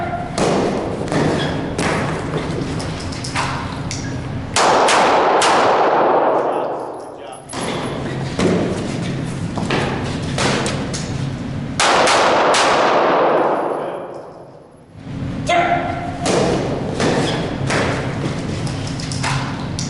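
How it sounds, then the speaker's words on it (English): Live pistol fire during a close-quarters arm's-length gunfighting drill, loud sharp reports in bursts around five and twelve seconds, with thuds and clangs between. "All right. Live fire."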